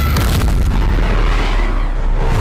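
A massive anime explosion, the Magical Splash Flare barrage from Re:Creators destroying a stadium, erupts as a loud, sustained booming roar that rumbles on without pause.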